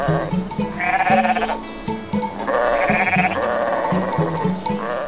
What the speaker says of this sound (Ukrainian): Отак вівці пастимуться цілий день